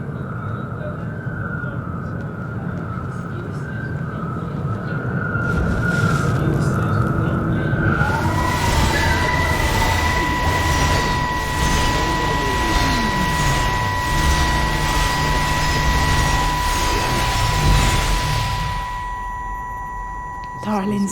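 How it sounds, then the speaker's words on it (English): Train brakes screech with long, high metallic squeals and sliding tones over a loud rumbling roar in the game Everybody's Gone to the Rapture, swelling for several seconds and then fading. "Thank you for playing train brake sounds as soon as I cross the tracks."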